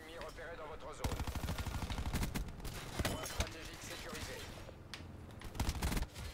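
Turret fire in Black Ops 4 rattles out in rapid automatic bursts, loud and close, with sharp individual shots punctuating the stream while someone talks over it.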